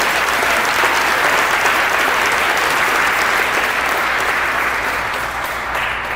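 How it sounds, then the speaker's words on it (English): An audience claps for a woman being honored at an event, a loud, sustained burst of many hands that holds steady for several seconds before easing slightly. "So we can give her a round of applause."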